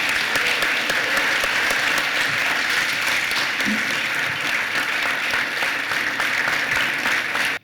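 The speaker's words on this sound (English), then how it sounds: "Amezawa a round of applause" An audience at a Lean Summit gives keynote speaker Mr. Masamoto Amezawa a round of applause. The clapping is loud, close and steady, sustained for about seven seconds before cutting off.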